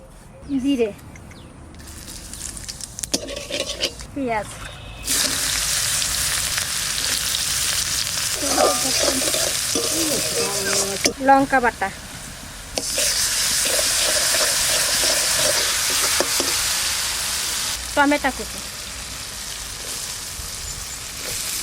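Oil heats in a wok for a curry, giving long stretches of loud, hissing sizzle close by that start and stop, with short voiced interjections in the quieter gaps.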